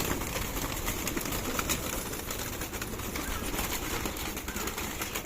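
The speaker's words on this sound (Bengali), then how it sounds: "পায়রাগুলোকে ছেড়ে দিলাম বন্ধুরা" Pigeons are let out from a rooftop, cooing and calling continuously nearby, with some wing flutter in a busy, steady bird chorus.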